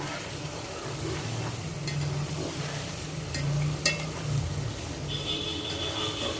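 Beef liver being stir-fried in a pan over a raised flame, a steady close sizzle with occasional scrapes and stirring clinks.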